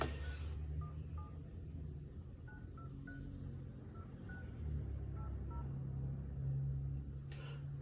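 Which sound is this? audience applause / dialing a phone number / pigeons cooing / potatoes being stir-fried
dialing a phone number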